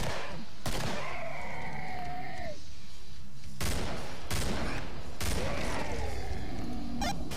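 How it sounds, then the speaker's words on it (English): Automatic weapon fire in the video game Killing Floor: several loud bursts of rapid gunshots break up a chaotic game soundscape with swooping effects and short pauses, and a voice is heard briefly. "I found this machine gun here laying"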